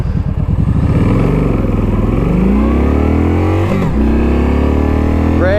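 A Kawasaki Nomad motorcycle engine runs loud and close, revving up through a gear change with a brief dip in pitch before climbing again, then settling into a steady drone.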